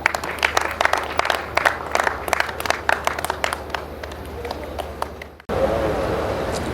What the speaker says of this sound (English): Please a round of applause for Chief Asawo.